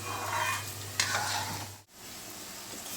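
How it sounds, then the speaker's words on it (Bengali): Steady crackling sizzle of okra frying in hot oil, close and fairly loud, with a brief stirring scrape partway through; no talking. "ভেন্ডি ভাজাগুলো দেখো দেখেছো কেমন শব্দ হচ্ছে"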